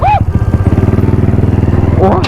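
A Thai street motorcycle, apparently a tuned small bike, runs close by with a rapid, lumpy, pulsing engine beat that rises at the end, loud and near.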